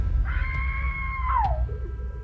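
In a radio drama, a woman lets out one loud, sustained scream for help, held high and steady before it slides downward and breaks off, heard alone over a low background hum.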